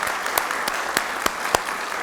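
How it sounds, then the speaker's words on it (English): Graduation ceremony crowd applauding a graduate, a continuous wash of clapping with several sharper, louder individual claps standing out at an uneven pace. "let's give you a round of applause for doing great work"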